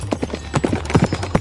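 A horse gallops at full speed in a Hindi animated folk tale, its hooves clip-clopping in a fast, steady rhythm that sounds close and clear throughout.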